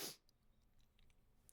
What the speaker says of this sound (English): now I have to fucking sneeze